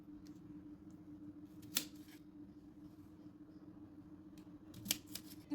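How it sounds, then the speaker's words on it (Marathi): A knife slices off both ends of a peeled cucumber, two crisp, close cuts a few seconds apart over a faint, steady background hum, with no talking. "आता आपल्याला दोन्ही साईडचे हे जे ते कापून घेऊया."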